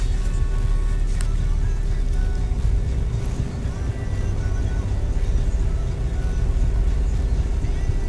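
A car engine holds a steady run at 1500 RPM, a constant low rumble with an even hum throughout, close and unchanging.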